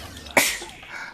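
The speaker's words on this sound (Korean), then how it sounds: "오늘 재채기가 너무 많이 나왔는데?" A single sharp human sneeze bursts out close by, loud and sudden, then tails off quickly over faint background noise.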